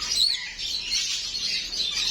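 High, rapid chirping of several small caged birds at a pet market in Mecca, continuous and fairly close, with twittering calls overlapping throughout and no voices.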